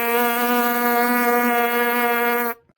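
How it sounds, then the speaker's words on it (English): A trumpet player buzzes the lips freely without a mouthpiece, with the tongue supporting the tone: one loud, steady, reedy buzz held for about two and a half seconds and then cut off abruptly. "You can hear that sounds kind of like it would if you buzz through the mouthpiece, but to do that, I'm using my tongue"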